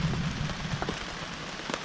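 Heavy rain pours steadily onto an anchored sailboat as a hurricane passes over in the Great Wicomico, a dense, continuous patter with scattered louder drops close by and a low rumble underneath.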